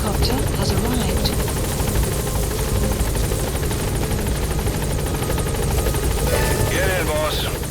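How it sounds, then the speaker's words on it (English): A support helicopter in Metal Gear Solid V: The Phantom Pain: steady rotor thrum and engine drone fill the whole stretch, loud and continuous, with a brief radio-like voice near the end. "Support helicopter has arrived."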